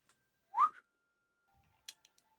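A person whistles at a cat during a tabletop roleplaying session: one short, bright rising whistle, fairly close, followed by a few faint clicks and soft ticks in an otherwise quiet room.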